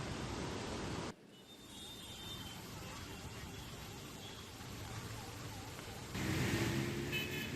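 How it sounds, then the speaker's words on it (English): Road traffic jammed in heavy Mumbai rain, with an ambulance stuck among the vehicles: a steady wash of rain and idling traffic noise, broken by a sharp drop near the start and growing louder toward the end. "an ambulance has been stuck for quite some time in the traffic"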